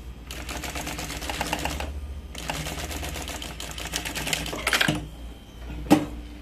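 A sewing machine runs in steady, rapid mechanical bursts while stitching a bag lining at the same seam allowance. There are two long runs, a short pause between them, then a few sharp clicks and knocks.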